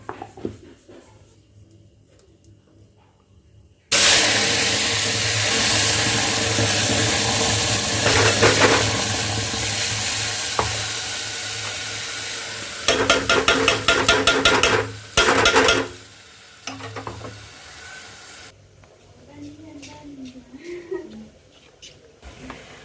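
Hot oil sizzles loudly in a pan, a constant hiss broken by clinks and stirring scrapes, fading to quieter room sound with faint talk near the end.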